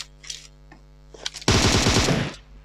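Rapid automatic gunfire bursts loudly for about a second in the PUBG Mobile winter mode, preceded by a few scattered game sounds over a constant electrical hum.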